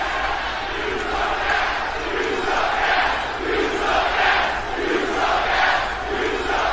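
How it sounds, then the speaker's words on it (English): Crowd noise from a WWE 2K wrestling video game during a Three Lions Global Championship match, a continuous loud roar swelling and falling in waves throughout. "Oh boy, the crowd is pulling no punches"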